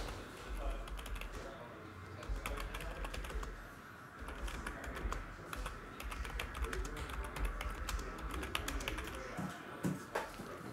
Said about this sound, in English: let me go ahead and type that